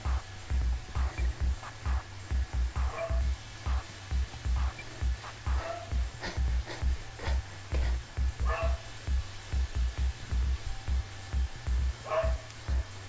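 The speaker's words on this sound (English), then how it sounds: "I'm guessing my package just showed up because Cody is now barking at the door" A dog barks repeatedly at a door indoors, a steady run of sharp, close woofs with occasional whines and yips over a faint continuous background hum.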